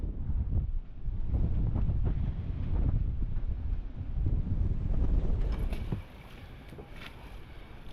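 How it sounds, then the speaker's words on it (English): Strong wind of around 30 knots buffets the microphone aboard an anchored sailboat in heavy, gusting rumbles, loud and continuous, easing a little near the end. "there's probably at least 30 knots of wind here"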